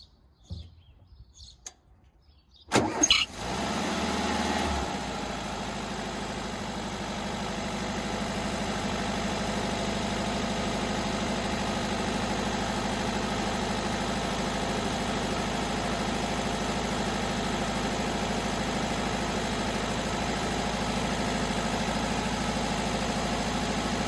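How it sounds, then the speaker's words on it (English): A VW camper van engine cranks briefly, catches and settles into a steady, even idle that runs on for about twenty seconds, close by and with no talk. "I'll do an engine start in a second"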